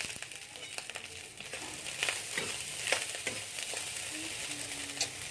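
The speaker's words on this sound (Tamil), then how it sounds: "நல்லா வதக்கி விட்டுக்கோங்க." Egg fried rice made with basmati rice being sautéed in a pan, a steady broadband sizzle of frying with scraping stir strokes and small crackles throughout, close and moderately loud, with no talking.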